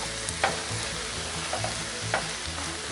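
A dish heats in oil in a cast iron pan with a steady close sizzle, broken by a few sharp scrapes and clinks of a utensil stirring. No one talks.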